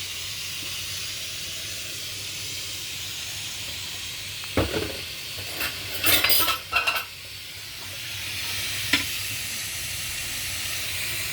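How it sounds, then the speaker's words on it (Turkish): Onions bubble and hiss in a pan on the stove for eggplant kavurma, a steady wash of steam and sizzle with a few sharp clinks and scrapes partway through, and a brief spoken word. "Bak soğan kaynıyor."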